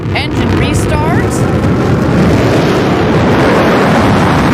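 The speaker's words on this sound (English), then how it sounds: "we're going to get the BE3 engine to restart." Blue Origin New Shepard booster's BE-3 engine restarting for landing: a loud, steady broadband roar that fills the whole span, with a faint rising tonal whistle near the start.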